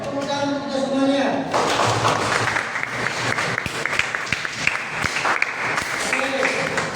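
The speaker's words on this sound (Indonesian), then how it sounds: "Tepuk tangan untuk kita semuanya." Classroom audience claps after a teacher's economics lesson, a sustained round of scattered clapping with a few sharp individual claps, following a brief musical tone at the start, with speech mixed in.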